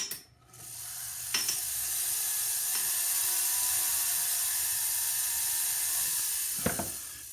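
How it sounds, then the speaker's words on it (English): A rubber polishing wheel spins against a silver braided ring, giving a steady high-pitched whine after a brief start-up, with a few light knocks as the ring is repositioned. "I'm going to use my rubber wheel."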